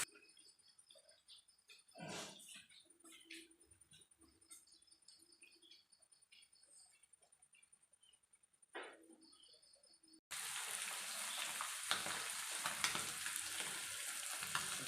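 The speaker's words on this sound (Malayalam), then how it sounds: "അപ്പോൾ അതാ നമ്മുടെ മീനിവിടെ വറുത്ത് കോരിയിട്ടുണ്ട് കേട്ടോ." Kilimeen fish frying Kerala style in a pan: a quiet stretch with a few faint clicks and taps, then a loud, dense, steady sizzle bursts in and continues to the end.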